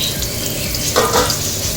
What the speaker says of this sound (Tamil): கேரட்டு, பீன்ஸ் 2யுமே ஒன்றா போட்டு பொரிச்சிடுவேன்.